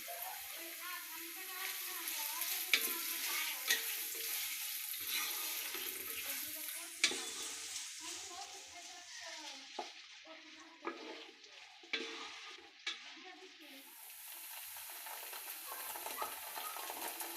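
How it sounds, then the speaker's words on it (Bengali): Onions frying in a pan for chicken biryani, with a soft steady sizzle and repeated scraping clicks of a spoon stirring, close and quiet; a voice speaks briefly. "পেঁয়াজটা ভালো করে ভেজে নিব।"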